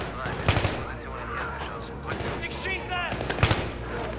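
Gunfire in the video game Battlefield 3 comes as short bursts of rapid shots, one near the start and one near the end, over a background of game sounds and occasional chatter.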